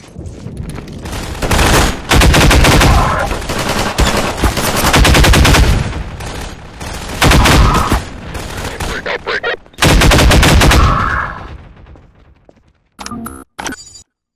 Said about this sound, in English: Oh, that's a pulse rifle.